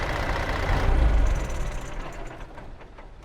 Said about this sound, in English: Let you hear the engine shut down again because it sounds so good when it shuts off.